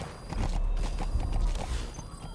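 In a Metal Gear Solid video game, rapid, rhythmic hoofbeats of a galloping horse pound steadily, close and loud, with a faint mechanical whine underneath.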